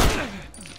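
A single shotgun blast in The Last of Us, a sharp loud boom at the start that decays quickly into a fading ringing tail, heard alone.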